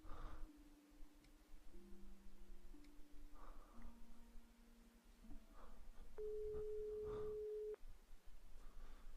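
In the Broken Sword 5 video game, a telephone call goes through as a series of faint, steady electronic tones that shift pitch, ending in one longer held tone over a low background hum.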